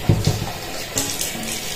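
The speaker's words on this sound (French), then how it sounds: "On va mettre un peu d'eau, rajouter un peu d'eau." Water poured into a pot holding soybean oil, a short splashing burst of liquid close by, tapering to faint trickling and small sloshes over under two seconds.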